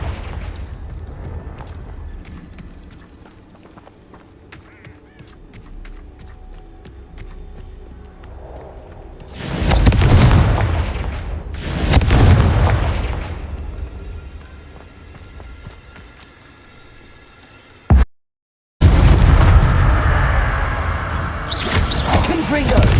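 Fiery Confringo spell blasts in the Hogwarts Legacy video game, several loud booming bursts at intervals over game background sound, with a voice shouting.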